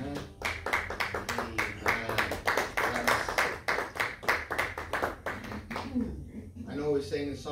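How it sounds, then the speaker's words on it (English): In a church service, the congregation claps as an offering, a run of sharp, rhythmic hand claps that comes through loud and close before thinning out near the end, with a few voices briefly heard. "Can we give the Lord a clap offering?"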